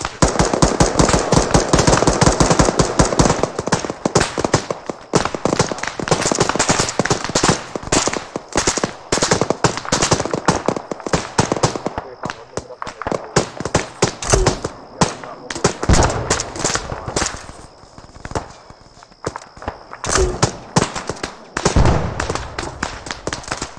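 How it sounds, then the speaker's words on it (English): ArmA 3 military game combat with sustained rapid automatic gunfire, dense bursts of shots crackling almost continuously and loudly, thinning into scattered volleys later, while players talk over radio in the background. "Returning fire 310."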